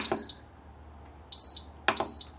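Electronic alarm on an off-grid shipping container climate-control setup sounding as a water tank fills to the float: repeated bright high-pitched beeps in short double pulses, clear and near, with a couple of faint clicks and no talk.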